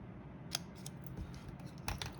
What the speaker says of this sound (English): So I'm just going to snip up here.